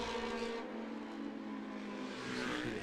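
Racing motorcycles at the Macau Grand Prix street circuit howling past at speed, a continuous loud engine roar with a rising pass-by sweep toward the end.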